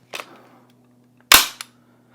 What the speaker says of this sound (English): First you could do the bolt release, of course.